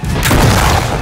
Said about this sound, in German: Ihr habt Rattler vom Felsen geschossen!